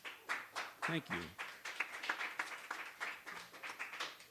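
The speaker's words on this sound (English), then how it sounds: "You're applauding that I got a gift." Small open-mic audience clapping in a steady patter of hand claps, fairly quiet and close, with a brief spoken thanks over it partway through.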